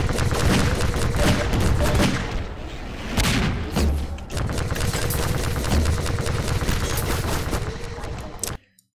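Heavy gunfire and booming impacts in the video game Half-Life 2 while shooting at the legs of towering enemies, a loud dense barrage of shots and blasts that briefly dips before resuming, then cuts off abruptly.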